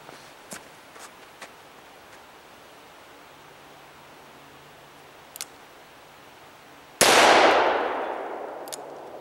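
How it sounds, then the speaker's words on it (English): A single sharp, loud revolver shot from a Smith & Wesson 629 or Ruger Super Redhawk, fired outdoors during a chronograph velocity test, cracks out after a long quiet stretch of faint background hiss and small clicks, then rings away in a decaying tail. "we'll go ahead and we'll shoot 3 rounds off of each"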